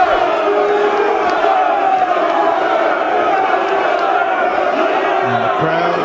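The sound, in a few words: crowd cheering to encourage Team Europe at Mosconi Cup pool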